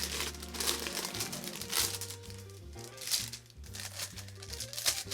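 Wrapping paper crinkles and rustles as it is pulled off an art book, a close, continuous crumpling with bursts of louder crackle, while music plays underneath.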